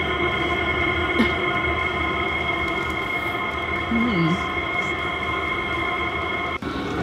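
Chinese diesel heater installed in a VW Crafter van conversion, heard from outside the van as a steady droning hum with tonal layers, like a distant train, running continuously with a few faint voice-like sounds.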